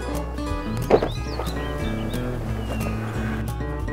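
A horse whinnies once, briefly and fairly close, amid an outdoor ranch scene with music and background sounds.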